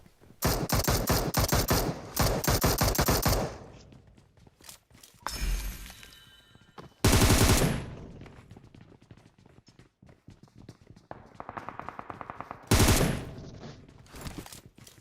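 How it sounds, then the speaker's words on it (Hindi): Bursts of rapid gunfire in PUBG Mobile rattle loudly, with several sharp volleys and crashes separated by short pauses. "यहाँ दूर पे ये बंदा बैठ के गोलियां पेल रहा होता है"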